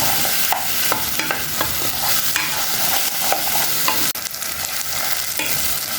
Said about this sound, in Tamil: உருளைக்கிழங்கு போட்டு ஜஸ்ட் ஒரு 2-3 நிமிஷம் நல்லா வதக்குங்க